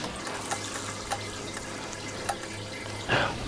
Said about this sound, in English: And we're going to pour it into a jar like this.